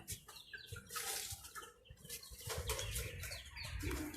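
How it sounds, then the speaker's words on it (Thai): Chickens cluck and scuffle up close while wings flap in quick flurries, a busy, jostling racket with no talking, as a crowd of chickens eats scattered food at a Thai mango orchard. "ไก่บ้านคนอื่นเขาจ้ะ"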